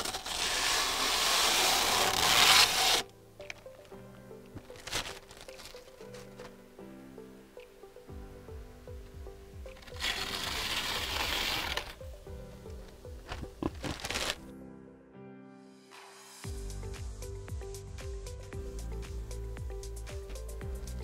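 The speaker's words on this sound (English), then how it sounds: "Finally at a point where I can take the plastic off of this machine." Plastic wrap crinkles and rustles in bursts as it is pulled off a Makerbot Method X 3D printer, with louder tearing swells between quieter handling noises and a steady background hum.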